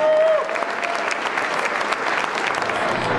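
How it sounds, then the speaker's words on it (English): Sustained audience applause fills a charity celebrity chef competition event, a dense steady wash of many hands clapping with no speech over it. "You guys clap for yourselves."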